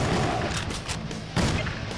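Rifle fire in the hunting game Cabela's Dangerous Hunts 2011, a dense booming roar with two heavier blasts about a second apart under constant low rumble.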